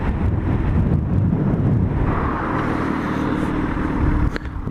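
A Mercedes SLR drives by on the street, its engine a loud, dense roar that fills the whole stretch with strong low rumble and wind buffeting before easing slightly at the end.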